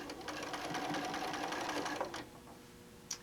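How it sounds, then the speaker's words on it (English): Sewing machine stitching through a quilt tack on a quilt, a steady close whirring run for about two seconds before it stops, followed by a faint quiet hum and a brief click. "make sure you sew through the quilt tack."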